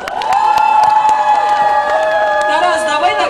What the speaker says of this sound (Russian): Не знаю, как ваши аплодисменты.